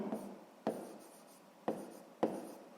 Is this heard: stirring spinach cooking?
no